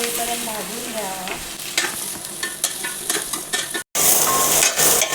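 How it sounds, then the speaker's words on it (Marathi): Onion frying in oil toward reddish brown for a Goan mushroom dish, a loud continuous sizzle with repeated spatula scrapes and stirring clatter, heard close, briefly cutting out before resuming. "तेल घालूया थोडं. कांदा लालसर होईपर्यंत भाजून घ्यावा"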